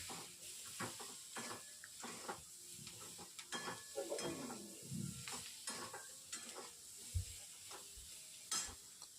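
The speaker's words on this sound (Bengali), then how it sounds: "এবার একটু নেড়ে ছেড়ে জল ঢেলে দেবো।" Spoon scraping and stirring through a mola fish curry in a pan, with soft sizzling and hissing between intermittent clinks and scrapes, close and fairly quiet.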